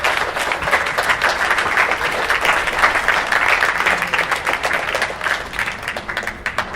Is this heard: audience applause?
yes